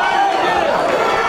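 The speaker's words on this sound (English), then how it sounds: "Crowd getting quite excited about this." A boxing arena crowd roars steadily and excitedly during a middleweight bout, a dense continuous wash of cheering voices with no breaks.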